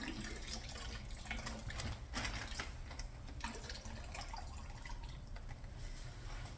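Reverse-osmosis-filtered water runs steadily from a sink tap as it is added to a homemade wine kit, a soft, even gush with a few faint clicks and splashes throughout.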